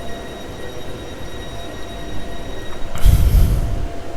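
A Sunderland Metro train pulls into a station platform, its rumble building from a quiet hum to a louder, close roar with a hiss near the end; no one speaks.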